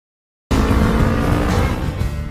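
A motorcycle ridden recklessly roars in abruptly after a moment of silence, a loud, steady, close engine rush with no voices.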